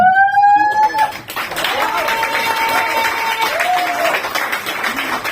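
A church congregation bursts into loud, sustained applause and acclamation during a worship service, following a brief tonal sustained sound at the start, with voices mixed into the dense clapping throughout.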